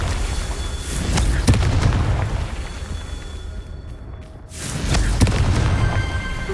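Confringo explosive spell cast in Hogwarts Legacy, a series of loud booming blasts and bursts with a brief sudden drop to near silence midway before the rumbling explosions resume.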